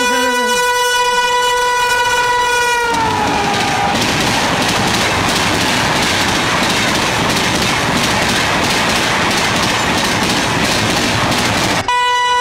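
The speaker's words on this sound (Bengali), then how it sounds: "ওই ট্রেন ছেড়ে দিয়েছে।" A passenger train departs, opening with a long, loud horn blast, then settling into a close, steady rumble with rhythmic wheel clatter that runs on until a brief horn returns at the end.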